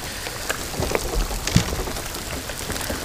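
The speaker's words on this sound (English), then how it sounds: "Those are some big raindrops." Big raindrops fall steadily on a lake during a stormy fishing trip, a dense continuous patter with occasional louder drops close by and no talk.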